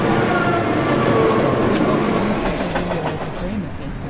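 A train rolls along a rail network in the Sim City 4 video game, a continuous rumbling clatter with rhythmic clicks, loud and steady.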